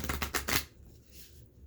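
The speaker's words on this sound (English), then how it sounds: "So I'm just shuffling," A deck of tarot cards is shuffled by hand in a quick burst of papery riffling, close up, then quiet follows.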